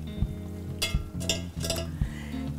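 Drained pasta goes into a skillet of hot lemon sage butter sauce, bursting into a steady sizzle and frying crackle with a few louder rushes and soft clinks of a utensil against the pan.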